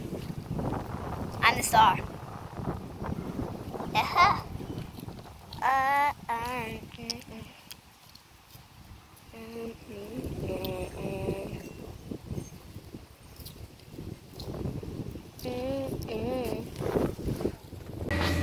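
Gusty wind buffets the microphone with low rumbling bursts outdoors beside an avocado tree while someone talks and briefly sings over it.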